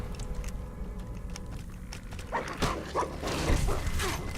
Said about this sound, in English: why do they bark if they're snakes?